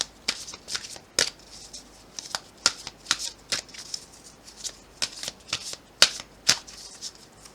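A deck of tarot cards is shuffled and cut by hand, giving a run of crisp, papery snaps and riffles in an irregular rhythm, close and fairly loud, with no speech.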